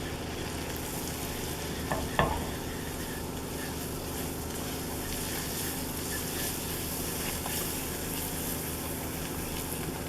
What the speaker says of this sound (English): I'm just going to get my whisk and just cook down the flour